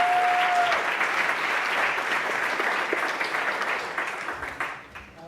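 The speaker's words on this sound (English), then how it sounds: "So let's give Mark a round of applause." A keynote audience at an arts center educator conference breaks into loud, dense applause that holds steady and then thins out toward the end.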